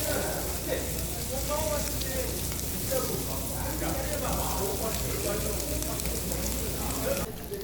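Meat sizzling on a grill at a Korean barbecue meat buffet, a continuous crackling hiss heard beneath people talking nearby.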